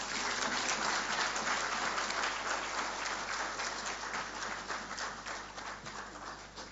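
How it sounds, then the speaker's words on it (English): Sustained audience applause fills a hall at a foundation day ceremony honoring a keynote speaker, a dense, steady wash of clapping that gradually softens toward the end with no voices over it. "let's have a huge round of applause."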